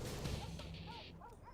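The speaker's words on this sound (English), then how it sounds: "Dogs are going crazy here in the center" Dogs bark in the center of a village map during a Command & Conquer Generals Zero Hour 1v1 match, a busy burst of yaps mixed with explosions and battle noise, fairly faint under the game din.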